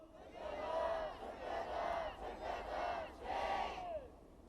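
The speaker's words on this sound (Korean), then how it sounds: "힘차게 한번 구호 외쳐보도록 하겠습니다." Protest crowd at a Korean labor rally for abolishing irregular employment shouts a slogan in unison, four loud rhythmic chanted phrases rising and falling with brief gaps, voices massed together.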